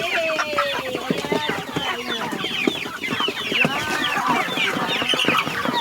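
A flock of chickens clucking and squawking busily together, many overlapping calls close by, continuous and lively throughout.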